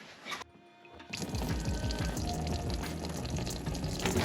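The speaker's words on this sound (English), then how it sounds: "I do like the way they drain the coolant because all I have to do is crack that" Pink coolant draining from a VW Golf MK4 radiator, pouring and splashing steadily and close by after a brief pause, a continuous liquid gush.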